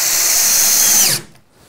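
Power drill running steadily as it drives screws into a guide rail during bandsaw log-cutting setup, a loud continuous whine for about a second before winding down abruptly into quiet.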